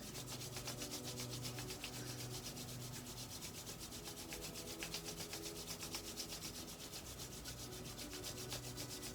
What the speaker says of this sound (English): as you're rubbing the hands, really press them together because you want to really get that friction and the heat building up